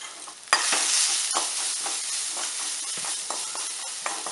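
Pepper, cumin and garlic hit hot oil with a sudden loud sizzle, then keep hissing and crackling steadily while being stirred in the pan.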